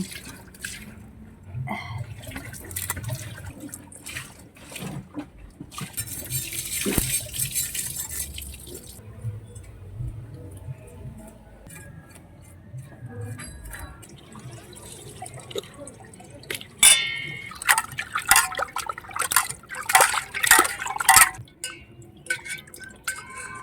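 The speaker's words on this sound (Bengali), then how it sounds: "মাছটা ভালো করে ধুয়ে নিচ্ছি আট নয় বার" Fish being washed in water for a Bengali fish curry, with intermittent splashes, drips and sloshing at close range, separated by quieter pauses and building to a busier stretch of splashing near the end.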